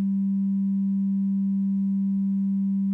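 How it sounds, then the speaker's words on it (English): A Studio Electronics Boomstar synthesizer holds a steady, pure sine wave tone at a low-mid pitch, constant in level and alone for the whole stretch. "And let's do a sine wave"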